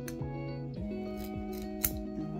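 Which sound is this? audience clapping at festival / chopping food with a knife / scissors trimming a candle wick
scissors trimming a candle wick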